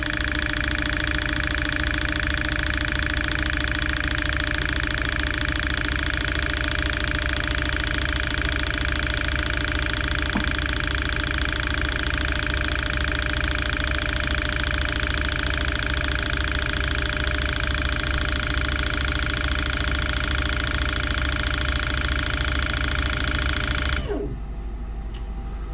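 A fuel injector flow test rig runs GSXR motorcycle injectors through a thirty-second test, giving a steady close mechanical hum with tonal whine and rapid buzzing pulses, continuous and unchanging until it cuts off abruptly near the end.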